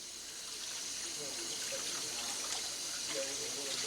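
Tap water runs steadily into a sink as a catfish fillet is rinsed, giving a close, continuous rushing splash for a few seconds.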